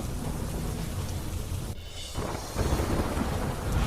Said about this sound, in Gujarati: ગાજવીજ સાથે પડેલા ધોધમાર વરસાદના કારણે રસ્તાઓ પર પાણી જ પાણી.